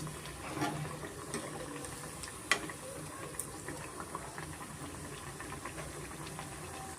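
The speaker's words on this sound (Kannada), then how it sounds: "ಮೀಡಿಯಂ ಫ್ಲೇಮಲ್ಲೇ ನಾವು ಚೆನ್ನಾಗಿ ಫ್ರೈ ಮಾಡ್ಕೊಳ್ಳೋಣ ಎರಡು ಸೈಡು ಚೆನ್ನಾಗಿ ಫ್ರೈ ಆಗಲಿ" Aloo tikki potato cutlets frying in oil on a medium flame, a steady soft sizzle and bubbling with occasional small pops and crackles, fairly quiet and without talk.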